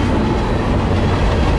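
Freight train W821 rumbles loudly and close on the tracks in a dense, steady roar with faint rhythmic clatter, no voices.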